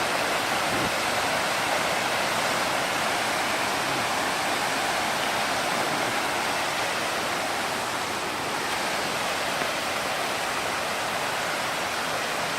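A 45-metre waterfall roars in a steady, dense, unbroken wash of falling water, loud and constant from nearby.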